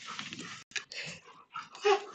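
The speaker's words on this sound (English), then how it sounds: "You're literally barking at nothing." A dog gives short, breathy barks and whimpering huffs in quick, broken bursts, faint and close, with no talk over them.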